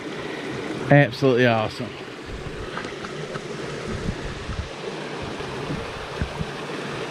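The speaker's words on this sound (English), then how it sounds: "That water's coming out of that cave right there." Water flows out of a cave beside the Red River, a steady broadband rush that runs throughout at moderate level, with a short burst of speech near the start.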